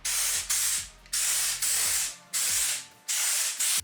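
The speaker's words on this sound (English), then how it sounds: "make sure to blow off all the dust and stuff that's there" Short bursts of compressed air blow dust off sanded pit bike parts, a spring and two wheels, in about seven loud, close hissing blasts with brief gaps between them.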